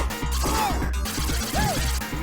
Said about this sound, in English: I especially like this part of the game where the floor gets all smashed up.